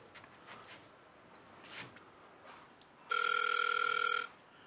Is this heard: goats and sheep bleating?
no